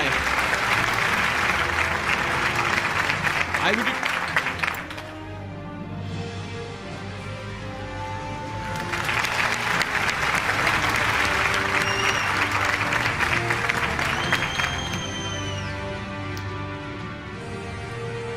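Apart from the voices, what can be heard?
audience applause for an award-winning team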